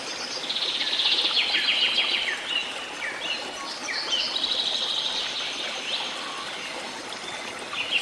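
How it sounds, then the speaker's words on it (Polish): Soft birdsong of scattered chirps and trills over a steady, rushing, water-like background hiss. "Słyszysz ten cichutki śpiew ptaków?"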